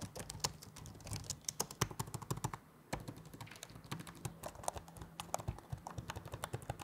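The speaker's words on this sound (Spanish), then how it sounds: "El teclado se siente y escucha bien." Typing on a budget high-end Chinese gaming laptop keyboard: quick, irregular clicky keystrokes in close succession with a brief pause near the middle, close and fairly quiet.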